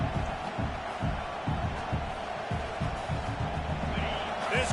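A stadium crowd at a football game roars in a constant wash of noise, while a commentator's voice carries over it throughout.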